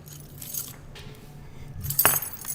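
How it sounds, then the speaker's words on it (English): A bunch of keys with a car key jangles at a brewery: soft, scattered metallic rattles that build to a brighter, sharper jingle near the end. "I got my keys over here."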